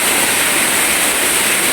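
A loud, steady roar of Busay Falls waterfall fills the space inside a cave, a dense wash of rushing water with no pauses.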